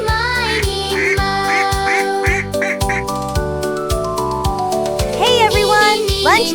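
Cartoon ducks quack repeatedly in quick bursts over a bright, busy children's rhyme soundtrack with music, loud and close throughout.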